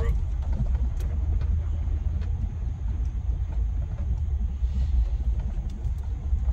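A truck rolls slowly up a road toward a training farm, heard from inside the cab as a steady low rumble of engine and tires with faint rattles, while a person talks over it.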